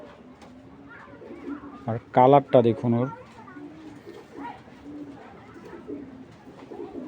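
Racing pigeons, including a light grizzle male, give a few soft, throaty coos close by, clustered in a brief burst while a person talks over and around them.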